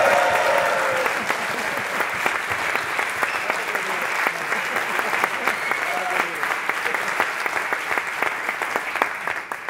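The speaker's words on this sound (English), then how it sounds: "It's the same people for clapping for all of them." A conference audience at a Wired 2012 startup event applauds, with dense, continuous clapping that holds steady for several seconds.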